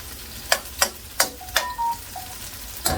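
Cassava frying in caramel sizzles, punctuated by several sharp metallic clanks of a utensil against a pan, irregularly spaced, with a brief tonal squeak between them.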